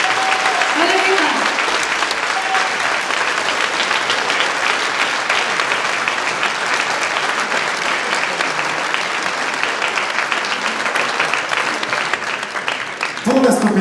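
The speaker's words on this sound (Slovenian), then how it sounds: "Velik aplavz še enkrat." A concert audience at a New Year's municipal celebration claps loudly and steadily for a long stretch after a vocal ensemble's song, with brief voices over the dense applause.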